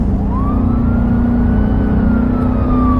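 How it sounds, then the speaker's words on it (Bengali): A siren wails steadily, rising and then holding its pitch over a continuous rumble of traffic, with no voices. "পেছনে দূর থেকে আবার সাইরেনের শব্দ পেল।"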